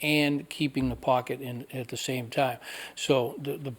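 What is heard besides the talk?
No distinct noise like a dog, phone or traffic.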